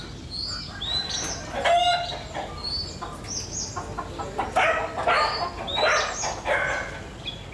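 Chickens on a farm in Guatemala cluck and squawk repeatedly at close range, with overlapping calls in an irregular rhythm over a steady outdoor background.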